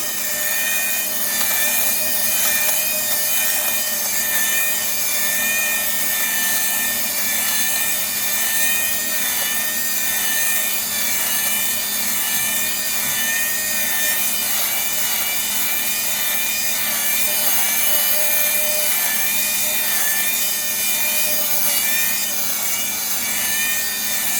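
Steady high-pitched motorized whir of a small Mr. Siga electric fabric depiller running continuously, with faint rubbing and scraping as it passes over cloth.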